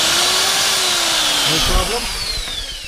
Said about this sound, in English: just to show you, 850 watts of drill,